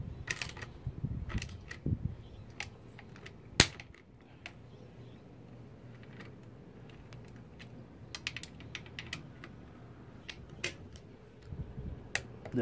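A torque wrench tightening the CVT cover screws on a GY6 150cc scooter engine gives sharp, close clicks scattered across a quiet workshop, with one louder snap near the middle and bursts of ticking toward the end.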